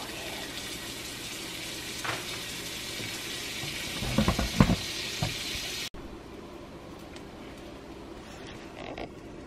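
French toast frying in butter, a steady quiet sizzle with a few brief scraping clatters, then a softer continuing fry after an abrupt cut.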